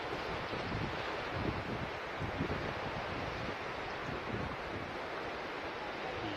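Steady surf washes continuously, a broad rushing roar of sea waves mixed with wind buffeting the microphone, no voices.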